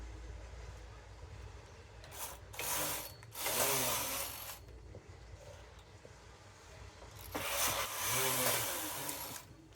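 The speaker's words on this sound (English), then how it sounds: "So I'm going to knit 2 rows right now." A knitting machine carriage makes two loud whirring, rattling passes across the needle bed, each a couple of seconds long, with quieter mechanical clicks and a low hum between them.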